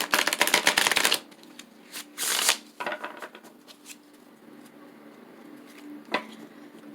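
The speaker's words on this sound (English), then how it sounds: "I'm a messy, messy shuffler." Tarot cards riffled and shuffled quickly up close, a dense burst of flicking followed by a few looser shuffles and soft slaps, then quiet handling.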